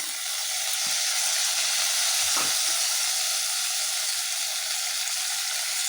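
Onions fried to golden in a pan for home-style chicken biryani, with mint leaves dropped in: a steady broadband sizzle throughout, with a few soft low stirring knocks near the middle.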